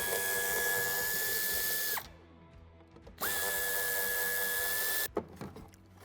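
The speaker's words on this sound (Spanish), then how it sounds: "Quitaremos estos dos tornillos." A cordless drill or screwdriver backs out two screws holding the fog light on a 2006–2014 Opel Vivaro van. Two sustained whirring runs are separated by a quiet pause, and a few small clicks and knocks follow. No one speaks.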